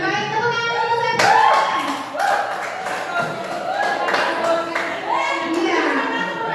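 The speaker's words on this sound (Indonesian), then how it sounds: "Baik, tepuk tangan untuk saya." Classroom audience clapping in sharp rhythmic bursts while voices chant and speak over it, the claps loud and close with children's voices mixed in.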